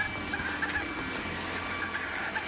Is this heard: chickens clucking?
yes